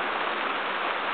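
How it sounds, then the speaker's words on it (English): Rain falls steadily over an allotment plot with polytunnels in northeast England, a constant soft hiss heard alone for a brief moment. "More rain."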